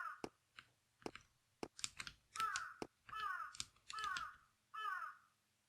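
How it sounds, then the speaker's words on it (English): Crows cawing in the video game Pedestal: a run of sharp, hoarse caws in an uneven rhythm, fairly close and clear, with short gaps and no talk. "the crows."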